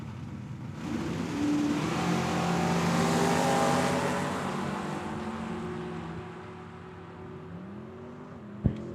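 Mustang and early 70s style Camaro drag racing, engines revving and screaming through rising gear shifts, loud and close before fading as the cars pull away, ending with a sharp knock.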